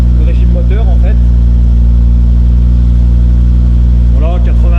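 A car with a custom exhaust silencer idles with a loud, deep, steady rumble throughout, while people talk over the engine.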